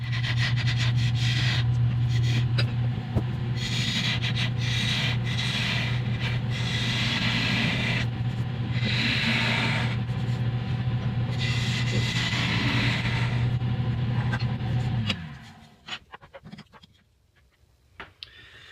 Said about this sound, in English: I'm going to go ahead and hollow out and shape the bowl.